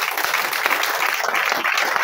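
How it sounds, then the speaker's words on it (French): Steady, dense applause from a church congregation fills the moment, a continuous wash of clapping hands without a break. "On peut l'encourager par nos acclamations."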